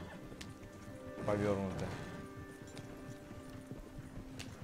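Horse hooves clip-clop briefly while a horse-drawn wagon moves in Red Dead Redemption 2, a short burst with a whinny-like tone under someone talking in Russian, amid quiet game ambience.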